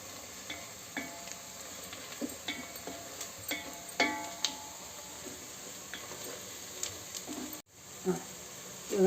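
Turmeric and spices fry quietly in oil, a soft, low sizzle broken by light ticking taps and scrapes of a spoon, fairly faint and steady, with a brief pause near the end.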